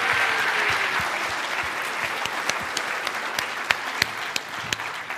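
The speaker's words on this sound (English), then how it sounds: "if we could just give her another round of applause for her fantastic effort" Applause from a conference audience for an award recipient at a Linux.conf.au 2017 keynote session, a steady wash of many hands that thins out, leaving a few sharper individual claps near the end.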